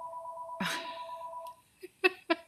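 A telephone rings with a steady electronic two-tone ring for about a second and a half, followed by a brief rustle and a few short, louder sounds nearby.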